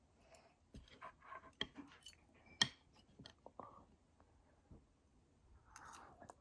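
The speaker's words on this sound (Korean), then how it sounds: "이번엔 공돌이 모양 떡, 에이, 떡볶이를 먹어보도록 하겠습니다" Chewing Pororo-shaped rice cakes in black bean tteokbokki, close and quiet, with soft, sticky bites and occasional crisp clicks spread irregularly over a few seconds.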